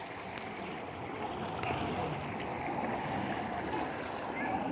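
Clear water flows steadily at an outdoor spot called Jhaka Pani, a soft continuous rushing wash with a voice talking faintly over it.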